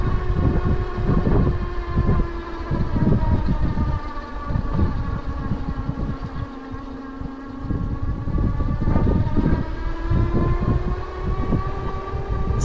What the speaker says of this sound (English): Motor sounds quieter than average.